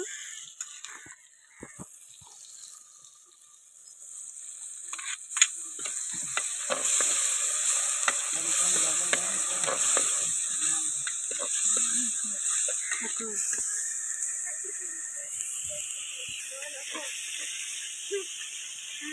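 Onions and ginger-garlic-chilli paste sizzle and fry in a pan for a prawn curry with brinjal, a steady close hiss with scattered stirring scrapes and small pops throughout.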